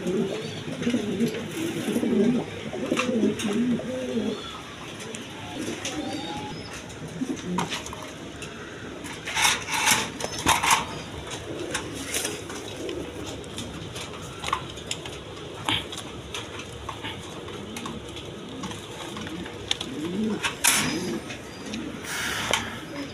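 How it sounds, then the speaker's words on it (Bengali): A pair of pigeons with milky-khaki necks cooing in low, repeated throaty phrases, with scattered clicks, taps and background chatter around them. "বন্ধুগণ এইখানে এক পেয়ার কবুতর আছে দেখেন, দুধ খাকি গলা।"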